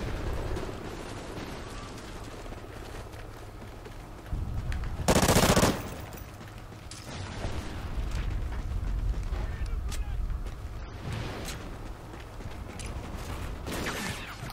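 Automatic gunfire rattles in repeated bursts during Call of Duty: Ghosts multiplayer, with one louder, sharper volley midway and steady background battle noise throughout.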